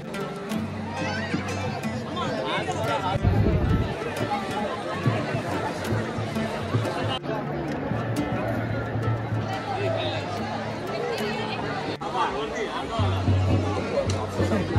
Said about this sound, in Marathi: आईच्या दर्शनाला किती गर्दी आहे बघा.